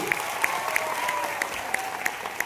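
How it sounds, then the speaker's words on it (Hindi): Applause from an audience at a talk, a steady wash of clapping with a few sharper claps standing out, continuous through the moment, with a faint voice or tone underneath. "तालियां बजाएं भाई"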